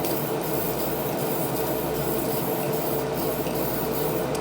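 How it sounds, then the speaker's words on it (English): A spray can lays down paint coats in one continuous, loud, even hiss of escaping propellant that barely wavers for the whole stretch, with no voices over it. "You'll see that I'm putting extra coats on because I've lost the pressure."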